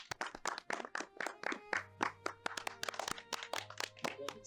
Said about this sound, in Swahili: makofi jamani.